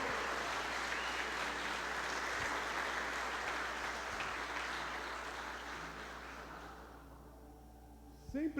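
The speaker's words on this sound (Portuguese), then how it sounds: "Você pode dar uma salva de palmas para Jesus?" Church congregation at a worship service claps together in a sustained, even round of applause that gradually fades, with a faint voice returning at the very end.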